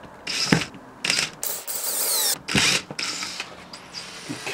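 A power driver sinks a screw into wood in several short whirring, ratcheting bursts separated by brief pauses, close and fairly quiet, with no talking.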